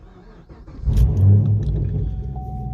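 The LT1 V8 of a fifth-generation Chevrolet Camaro SS rumbles at idle, then swells into a deep, loud rev that holds steady, heard up close.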